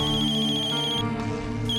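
A phone rings indoors with a steady electronic ringtone, a loud repeating trill that stops briefly partway through and resumes, over a faint hum in a room.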